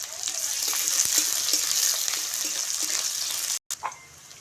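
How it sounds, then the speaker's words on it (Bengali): Chopped onion hits hot white oil and fries with a steady, loud broadband sizzle, with scattered clicks of stirring throughout, a brief dropout near the end, then the sizzle resumes. "তেলের মধ্যে দিয়ে দিচ্ছি পেঁয়াজ কুচি। পেঁয়াজটা নেড়ে চেড়ে একটু ভেজে নেব।"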